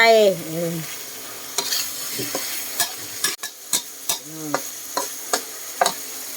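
Eel is stir-fried in a hot pan for a spicy stir-fry, with a continuous close sizzle and regular rhythmic spatula scrapes and knocks about every half second.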